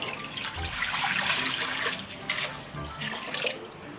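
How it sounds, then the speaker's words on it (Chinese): Clear water pours into a wok ahead of cooking okra, a close splashing and trickling stream that swells and eases over a few seconds. "起锅，锅中加入适量清水"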